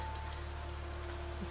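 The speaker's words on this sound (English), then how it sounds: "Oh, it's raining! It's raining!" Rain falling in a dragon life-simulation video game, a steady, even patter of drops on surfaces that runs throughout at a soft level, without any voices.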